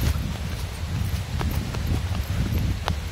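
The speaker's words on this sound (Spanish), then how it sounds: "Un trote de vaca preocupada, dijo don Adán." A cow's hooves thud in an uneven trotting clip-clop on the ground outdoors, close and fairly loud, over low background rustle.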